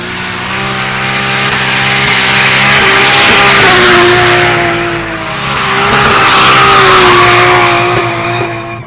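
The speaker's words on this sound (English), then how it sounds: "Drift cars ripping in the background." Drift cars at a grassroots JDM drift event, engines screaming and tires squealing in long continuous slides, loud and sustained in two swelling passes, no talking.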